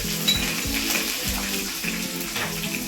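Curry leaves and green chillies fry in hot oil for vegetable uppittu, a loud, close, continuous sizzle with occasional spattering pops and faint stirring scrapes.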